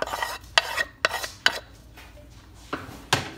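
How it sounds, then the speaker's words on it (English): Onions sliding into a pan seasoned with kosher salt, a handful of sharp scraping, rattling bursts against the pan with a soft sizzle beneath, close and fairly loud with short pauses between. "I'm going to slide my onions in here."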